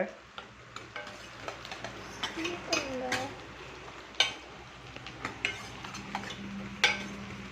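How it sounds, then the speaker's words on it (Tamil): Onions sauté in a pan for gongura kadaiyal: a soft sizzle under repeated scraping and clinking of a spatula against the pan, with intermittent talk. "பாருங்க, ஆனியன் வதங்கி வருது."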